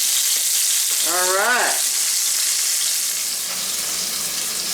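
Pork chops browning in a hot pan over a high flame, a steady loud sizzle and fry that fills the clip, with a brief spoken word near the start.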